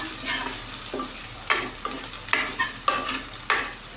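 Ground asafoetida paste, hand-ground on a grinding stone, sautés in a pan for pepper-water rasam; sharp spatula scrapes and clacks land every half second or so over a soft sizzle, nearby and without speech.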